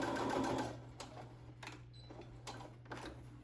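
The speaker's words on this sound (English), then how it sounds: "I'm going to go ahead and sew that." A sewing machine stitches a small denim jean jacket for a pear-body Smart Doll, a brief burst of fast, steady stitching near the start, then quiet with a few faint clicks and handling taps.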